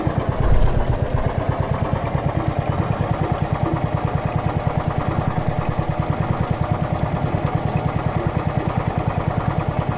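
A tractor engine in Farm Mechanic Simulator 2015 runs steadily in the game, with a constant low chugging rhythm of even pulses, close and unchanging throughout.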